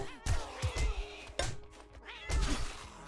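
Cats meow in a survival video game, giving several short cries mixed with thumps and clatter at moderate loudness.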